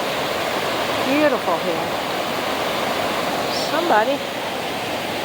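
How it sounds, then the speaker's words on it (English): A waterfall swollen and muddied by recent rain gives off a steady, broad rushing roar that fills the air at a hiking spot, with a person talking briefly over it. "What a beautiful waterfall."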